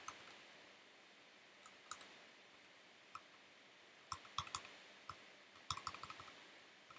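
Scattered clicks of typing on a custom ortholinear mechanical keyboard with wooden keys, sparse at first, then quicker bursts of crisp, close keystrokes near the end, with no talk.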